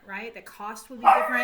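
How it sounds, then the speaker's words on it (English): A dog barks briefly in the background, overlapping a person who keeps talking through it. "I'm sorry, that's my dog"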